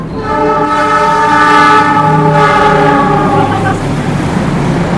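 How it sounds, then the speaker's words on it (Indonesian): Train passing right beside the railway track with a loud, sustained horn blast over the rumble and rattle of the cars, very near and dominant throughout. "jadi ya ini kebetulan di samping rel kereta ya"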